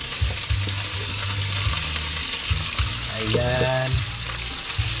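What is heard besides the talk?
meat frying in a pan for adobong talong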